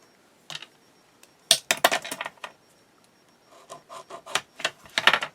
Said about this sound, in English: I'm going to go ahead and just do it with my Timmy scissors.